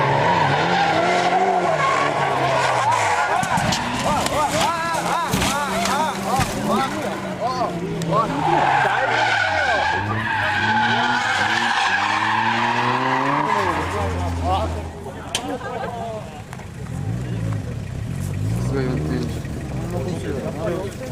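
Tuned import cars drift with long wailing tire squeals and skids, rising and falling in sweeping waves over revving engines, while someone talks over the noise.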